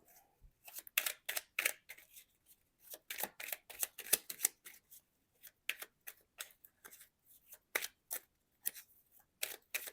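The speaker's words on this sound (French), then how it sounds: "Je vais les brasser différemment." Tarot cards are shuffled by hand in quick, irregular bursts of crisp flicking and slapping, close by and fairly quiet, with short pauses between handfuls.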